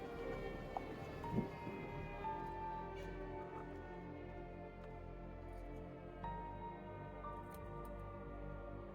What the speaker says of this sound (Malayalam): ഒരു സൗണ്ട് കേട്ടോ, സൈറൻ്റെ സൗണ്ട്.